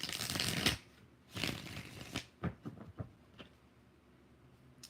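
A deck of tarot cards is shuffled several times up close, with a few loud riffling bursts followed by softer, scattered card slaps and taps, with no talk.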